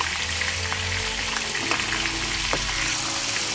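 Pointed gourd and ridge gourd frying on high flame in a mixed vegetable dish, a dense, even sizzle close by with a few faint clicks, no voices.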